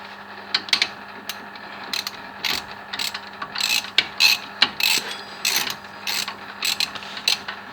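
A nut on the brakes of a Renault Modus is worked loose by hand, giving a run of short irregular metallic clicks and rubbing scrapes close up, without speech.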